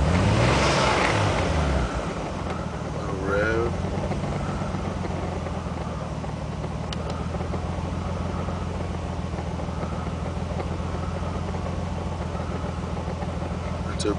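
Car engine fitted with an Apexi AVC-R boost controller idles with a steady low hum, giving a brief small rev early on before settling back to a constant idle.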